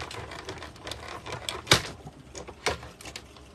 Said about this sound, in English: I just put that through my machine, wind that through